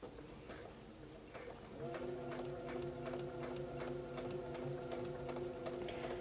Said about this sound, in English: Now on this end, I want to sew off of this point right here.